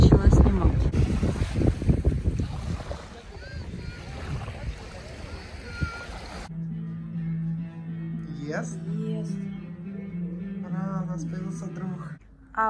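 Wind gusts buffet the microphone on a beach at a hotel in Sharm el-Sheikh, Egypt, for several seconds, then ease to a calmer background where a voice talks over a steady low hum.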